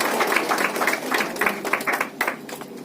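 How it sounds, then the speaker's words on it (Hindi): Loud rhythmic clapping from an audience at a teachers' honoring ceremony in Naihati, uneven bursts rising and falling across the moment, close and fairly busy. "सम्मानित किया जाए जोरदार तालियों के साथ उनका"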